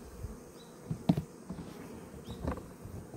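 A busy honeybee hive gives off a steady droning buzz, punctuated by a few soft knocks and rustles, heard close up without any talking.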